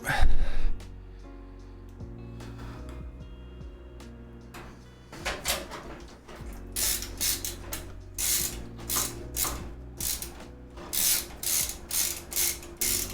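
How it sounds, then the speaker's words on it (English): Screws being driven into a PC during a build: repeated close ratcheting clicks from a screwdriver in short bursts, with light handling noises and a steady background hum. "Let me get some of these screws in."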